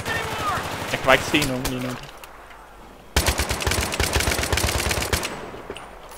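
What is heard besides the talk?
gunfire in the video game Battlefield 3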